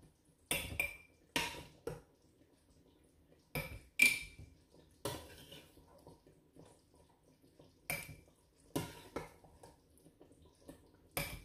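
A spoon clinks and scrapes against a pot while scooping out zucchini in tomato sauce, a series of short, sharp knocks spaced a second or two apart, with quiet gaps between.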